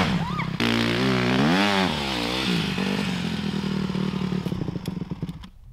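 A motocross bike labours through deep sand, its engine droning loud and close with rising and falling revs, then easing off and spluttering before cutting out at the end.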